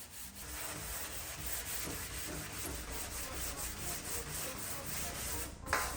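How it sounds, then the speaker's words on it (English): Sandpaper rubs steadily over cured epoxy on a repaired surface, a close, continuous scratchy hiss in even back-and-forth strokes that runs alone for several seconds before a brief bump near the end. "So I'm just starting to sand through there now"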